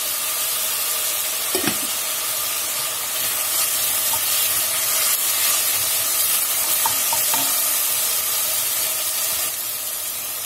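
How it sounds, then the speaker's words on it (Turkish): Steady sizzling of small-chopped vegetables frying in oil for celery soup, with occasional scraping knocks of a spoon stirring through the pan. "küçük küçük doğradım, onu da karıştırıyorum"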